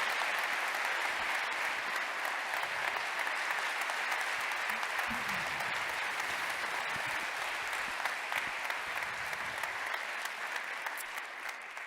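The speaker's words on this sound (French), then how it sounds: "On peut les applaudir l'un et l'autre." Audience applause at the FFSA motorsport awards ceremony, a steady wash of clapping from a large crowd that holds evenly for the whole stretch, with faint voices briefly rising beneath it.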